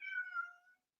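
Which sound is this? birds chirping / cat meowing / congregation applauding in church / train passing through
cat meowing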